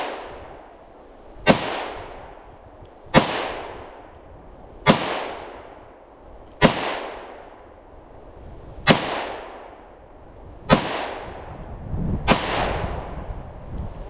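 Seven sharp pistol shots from an FK BRNO handgun crack out one by one at a steady, slightly uneven pace, each followed by a short ringing decay, with no talk between them.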